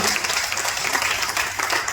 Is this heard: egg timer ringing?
no